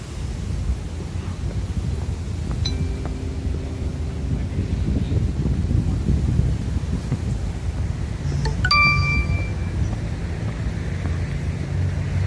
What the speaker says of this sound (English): I have my work alert set up on this phone. So even though I have it on Do Not Disturb, they still come through.